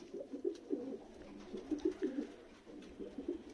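Racing pigeons coo softly at a home loft, with several low, rolling calls overlapping in a quiet, close setting.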